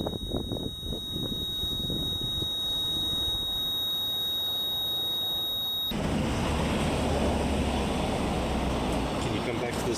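REM pod ghost-hunting device in a reputedly haunted house, sounding a steady electronic tone that abruptly shifts to a different, noisier tone midway, continuous and close, with no voices over it.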